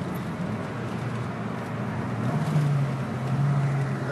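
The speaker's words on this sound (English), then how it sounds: "I try to do a little rev matching there on the down change" Steady interior engine drone from a 1991 Suzuki Swift GTI on the move, with a short rise in revs partway through as the downshift is rev-matched, then settling back to an even hum.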